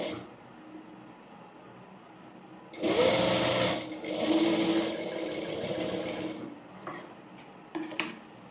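Sewing machine stitching a V-shaped neckline on an A-line frock in two short close bursts of a few seconds each, separated by quiet pauses and light mechanical clicks.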